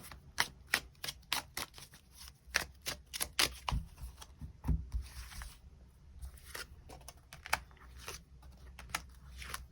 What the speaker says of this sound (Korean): 우리 관계의 흐름들 추가 카드 뽑아보도록 하겠습니다